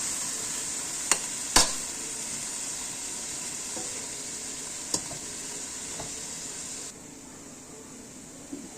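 Broccoli fries in a pan for a soup, giving a steady close sizzle with a few sharp clicks of stirring, and the hiss drops lower near the end.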